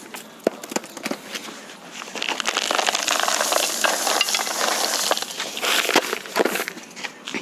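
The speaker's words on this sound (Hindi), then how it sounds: "ये तो चलिए कुछ सॉइल मिक्स डाल लेता हूँ मैं" Loose potting soil mix poured and scraped into a Shami plant pot, a steady gritty rustle with scattered sharp clicks, close and fairly loud, with no talking.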